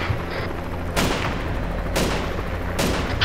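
Three sharp gunshots in a video game, spaced about a second apart, each a sudden loud crack that decays quickly over a steady low background hum.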